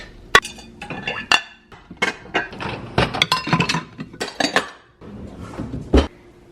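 Clean dishes, including a ceramic pumpkin dish, clink and clatter as they are unloaded from a dishwasher, with close, loud, irregular bursts of glass and plate knocks and brief pauses between them.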